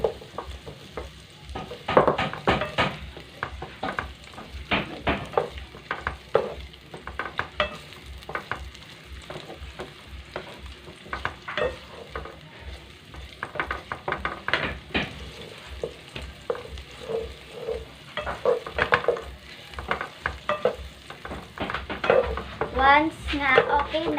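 Onion and garlic sauté in a pan for ginataang sitaw, with irregular bursts of sizzling and frequent stirring scrapes against the pan.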